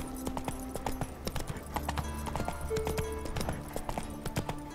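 Horse hooves clip-clop at a steady riding rhythm in The Witcher 3, close and continuous, with a faint game music tone in the background.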